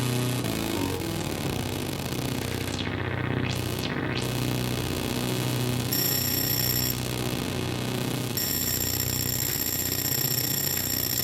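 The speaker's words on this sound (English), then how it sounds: "I've still got my MicroKORG going at the same time." A Korg MicroKORG synthesizer plays a steady, buzzy sustained tone with a bright, ringing, bell-like layer that drops out and returns. It is continuous and moderately loud, with no talking over it.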